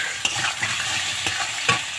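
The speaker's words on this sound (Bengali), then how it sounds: "পেঁয়াজ আর রসুন আমি এখানে অ্যাড করে দিলাম, দিয়ে এটাও আমি ভেজে নেব" Potato pieces with onion and garlic fry in hot oil in a pan, a steady close sizzle broken by a few sharp spatula scrapes as the mix is stirred.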